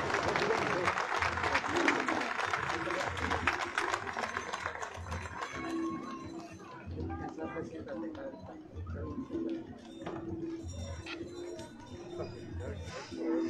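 A crowd at an anniversary celebration applauds a marching band from Cholula, Puebla, with a dense wash of clapping that settles down after a few seconds as a voice carries on over the thinner background.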